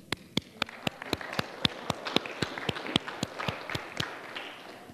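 A church congregation claps after a prayer, producing a steady, evenly spaced beat of single sharp claps, about three per second, over a faint room hum.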